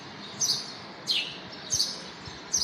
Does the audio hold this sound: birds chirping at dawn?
yes